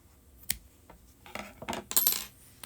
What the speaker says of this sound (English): Now I'm going to grab the scissors and trim.